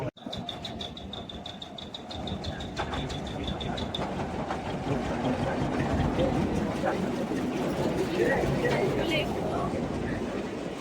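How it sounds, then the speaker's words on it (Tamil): A toy train at Elephanta Caves near Mumbai rumbles in with a steady, building clatter. A high beeping tone sounds at first over a background murmur of people. "போகிற டாய் ட்ரெயின் வந்துட்டு."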